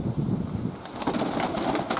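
Pigeons cooing at a pigeon loft, soft low murmuring coos under a constant airy outdoor background, with brighter rustles and flutters joining partway through.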